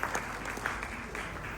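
An audience at an evening charity event breaks into warm applause, a dense, steady clapping heard from within the hall with no talk over it.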